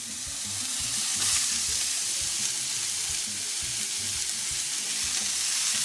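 Steady loud sizzling and frying of hamburger patties in a hot pan for hamburger steak, a continuous close hiss with faint stirring and no talk.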